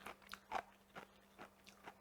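A crunchy piece of bamboo shoot braised about an hour with duck and river snails is bitten and chewed in several short, crisp crunches spaced through a quiet moment, close and fairly soft, with no talk.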